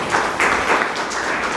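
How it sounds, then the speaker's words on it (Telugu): Audience members clap together in a short burst, the dense patter rising and falling in loudness over a second and a half with no speech on top. "చప్పట్లు కొట్టడం ఒకసారి"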